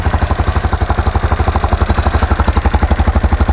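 A Kawasaki KLF300 4x4 ATV engine idles loud and close, with an even, rapid chugging pulse that holds steady throughout and no voices.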